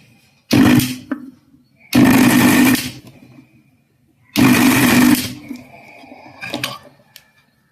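A mixer grinder crushes prawn vadai ingredients in three loud, short bursts of whirring and rattling, each lasting about a second, with a brief clatter and quieter handling noise between them.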